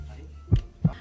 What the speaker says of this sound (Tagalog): ang sagot ng Madaling Bato ay Heartbeat